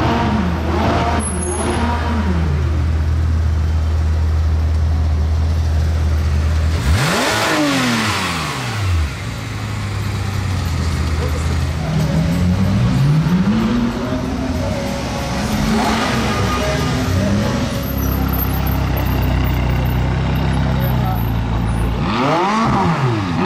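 Loud street scene at a supercar rally, with a Porsche GT3 RS sports car engine revving among other supercars, several rising and falling rev sweeps over steady engine drone and traffic noise.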